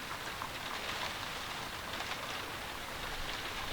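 Steady rain pours throughout in a Sherlock Holmes: Crimes and Punishment video game scene, a dense, even hiss with no breaks and no voices.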